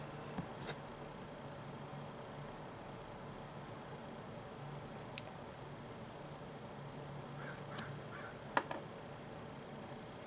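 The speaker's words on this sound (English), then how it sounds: "Do you hear the birds? The cacas? The crows?" Crows cawing outdoors, a few faint, distant calls scattered over a steady background hiss, with no one talking.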